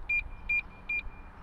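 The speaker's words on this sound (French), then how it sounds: "en bouton, ça fait l'alarme" Three short identical electronic beeps in an even rhythm from a motorcycle's key fob alarm, sounding clearly over low background rumble.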